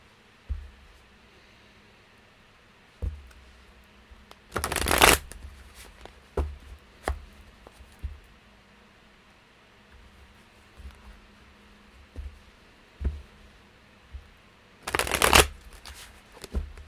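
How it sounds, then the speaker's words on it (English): A deck of tarot cards is shuffled in two loud riffling bursts several seconds apart, with soft taps and card handling in between, close and alone. "Let's just shuffle some, and then we'll pull a card for all 3."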